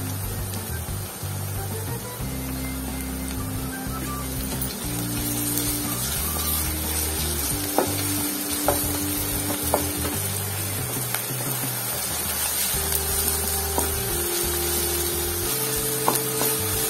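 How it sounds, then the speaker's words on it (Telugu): Onions with ginger garlic paste frying for a prawn masala curry make a steady, fairly loud sizzle that runs on without a break, with occasional light clinks and stirring; nobody speaks. "ఇంకా 2 నిమిషాలు యాగనివ్వాలి ఉల్లిపాయలు."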